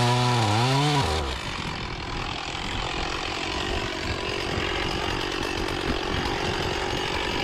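Chainsaw cutting a felling notch into a large ash tree with a plunge cut: the engine drops from a high, wavering rev into a steady, loud, buzzing drone as the bar bites into the wood.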